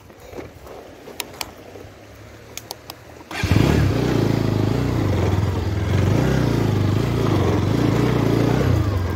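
After a few quiet seconds with faint clicks, a motorcycle engine starts and settles into a loud, close, steady idle rumble that holds to the end.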